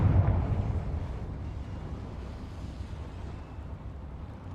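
Confringo fire spell from a Harry Potter video game bursts with a deep boom at the start, then settles into a low, sustained rumble that gradually fades; fairly quiet overall.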